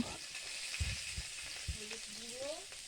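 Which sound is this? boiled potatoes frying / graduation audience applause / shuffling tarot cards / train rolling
boiled potatoes frying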